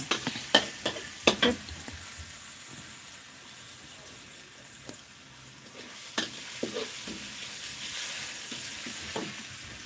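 Garlic frying in a little oil gives a soft, even sizzle that runs the whole time, with a few sharp clinks of a spatula on the pan near the start and again later, and no voices.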